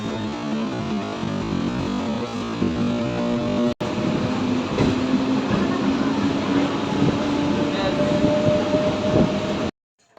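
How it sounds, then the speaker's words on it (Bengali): Continuous rumble and rattle of a moving train heard from inside, passing Bolpur Shantiniketan, steady and loud, with a brief dropout partway through. "এখন ট্রেন ক্রস করছে বোলপুর শান্তিনিকেতন"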